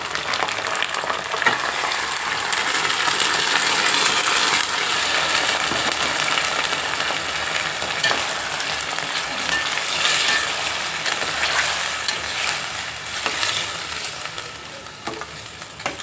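Pieces of mutton fry in hot oil in a pan for an Andhra-style mutton fry, giving a steady, dense sizzle throughout with occasional stirring scrapes and no talk.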